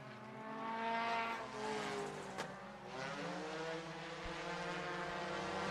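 Open Hornets race cars at Sunset Speedway Park roar through the turns in a heat race, several engines droning and shifting pitch as they pass, loud and sustained at mid distance.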